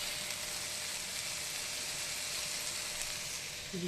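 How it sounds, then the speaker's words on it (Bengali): Lentil dal boiling in a pot, giving a steady, fairly faint bubbling hiss that stays even throughout, with no voices. "ডাল ফুটছে"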